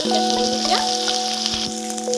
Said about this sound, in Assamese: পিঁয়াজ নহৰু ভজা হৈ গৈছে